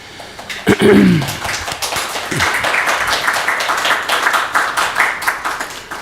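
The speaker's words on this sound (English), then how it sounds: "You all deserve a round of applause for that" Audience applause at a city council meeting: a few sharp claps first, then a steady wash of clapping from a room full of people that carries on evenly for several seconds.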